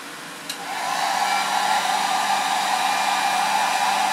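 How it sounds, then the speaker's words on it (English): A hot air gun blows steadily while heating iodine in a beaker, a loud, even broadband whoosh that swells up in the first second and then holds close and constant with no talking. "I'm going to heat this with a hot air gun."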